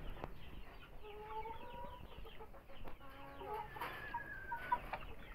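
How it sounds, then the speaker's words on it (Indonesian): Chickens clucking and calling at a poultry farm where black Cemani hens sit on eggs, with several overlapping birds nearby giving short, repeated clucks and squawks over a steady farmyard background. "Ayam geok."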